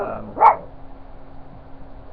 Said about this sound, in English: these dogs barking, it's pissing me off